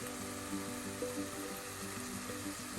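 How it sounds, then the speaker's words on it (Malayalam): Chilli powder, Kashmiri chilli powder and pepper powder sizzle in hot oil for a Kerala pressure-cooker mutton curry, making a steady close frying hiss with faint tonal hum beneath, no voices. "അത്രയും ചേർത്ത് നന്നായി എണ്ണയിലൊന്ന് മൂപ്പിക്കാം"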